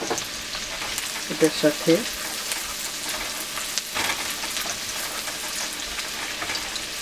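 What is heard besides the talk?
chilies frying in a pan for chilli chicken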